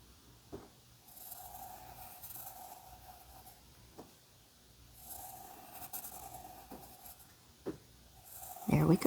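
Pen strokes drawing large snow peas on paper, with soft scratchy passages in slow bursts at close range, under a quiet background.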